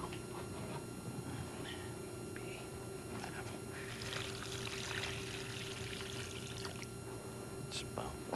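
Water pours into a cooking mixture of mushrooms, a soft steady stream that runs for several seconds with quiet background hiss.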